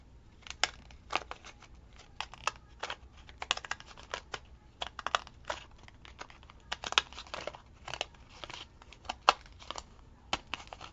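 Decorative-edged craft scissors cutting through thick paper or card for a bookmark, a series of sharp crisp snips and crinkles in irregular quick bursts, close up with no talking.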